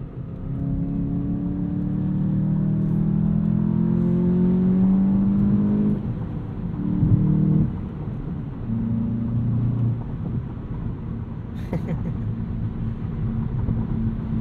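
A 2022 Volkswagen Jetta GLI engine drones steadily from inside the car while driving, its pitch rising under acceleration, dipping around a shift, then climbing again; no talk.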